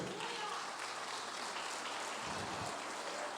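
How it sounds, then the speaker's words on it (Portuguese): Church congregation clapping for the Lord during a sermon, a steady broadband patter of many hands filling the clip at moderate level, with no clear pauses. "As palmas para o Senhor."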